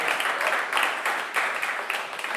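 Applause for a band at a live radio show, a steady wash of many hands clapping, moderately loud and sustained.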